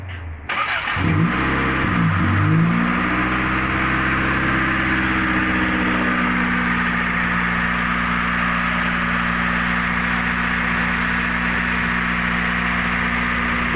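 A 2005 Subaru Legacy GT with a COBB SS 3-inch downpipe starts up, revs briefly, then settles into a loud, steady, close idle drone with no talking.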